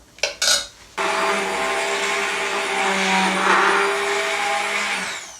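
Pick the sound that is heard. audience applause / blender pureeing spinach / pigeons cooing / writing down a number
blender pureeing spinach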